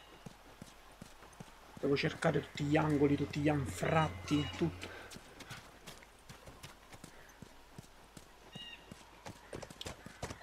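Horse hooves in The Last of Us, a quiet, steady clip-clop of hoofbeats throughout, with someone talking loudly over part of it.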